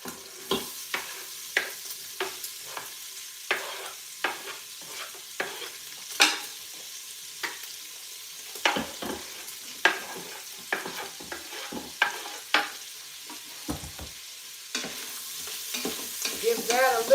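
Carrots and onions fry in a hot pan, a continuous sizzle punctuated by regular clacks and scrapes of a utensil stirring through the vegetables, fairly close and loud with no voices.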